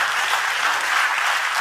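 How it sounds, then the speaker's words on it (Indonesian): Church congregation bursting into dense, steady applause during a sermon, a loud wash of many hands clapping at once throughout, with no voices over it. "tepuk tangan buat Tuhan Yesus."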